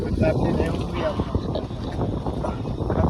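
Wind sweeps across open, rain-soaked fields and buffets the microphone with loud, rumbling gusts. People talk under the roar.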